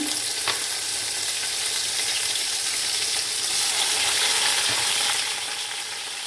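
Garlic ginger paste frying in a pan with golden onions for rice pulao, giving a steady, loud, continuous sizzle throughout with a faint scrape of stirring early on.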